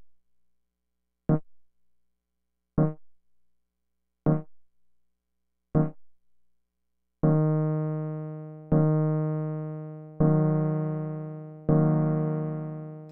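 Guitar chords with a DOD 440 envelope filter switched off ring out cleanly: four short plucked stabs, then four longer sustained chords, each struck alone at an even pace.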